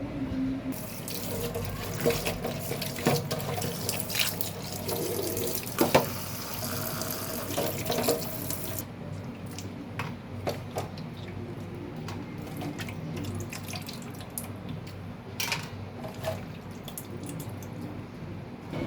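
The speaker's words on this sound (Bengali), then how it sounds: "চলুন আগে মাছটাকে ধুয়ে নেই" Running tap water pours steadily over a stingray fish being washed in a kitchen sink, a continuous close splashing stream that eases into softer dripping and trickling partway through, with no voices.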